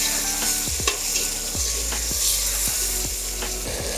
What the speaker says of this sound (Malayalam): അത് നന്നായിട്ടൊന്ന് വഴറ്റിയെടുക്കും.